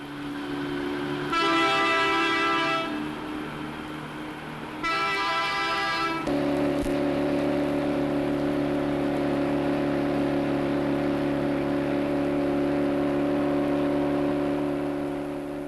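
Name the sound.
British Railways Fell locomotive 10100 on trial run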